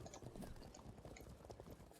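Nomad horse archers move across a strategy battle game, their hooves giving a quick, busy clip-clop of many overlapping hits at moderate volume, with no voices.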